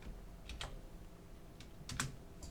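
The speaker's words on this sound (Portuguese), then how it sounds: "Deixa eu só dar um Enter." Keystrokes on a computer keyboard during an algebra problem-solving session, a few faint scattered taps with one firmer press near the end, quiet and close with no talking.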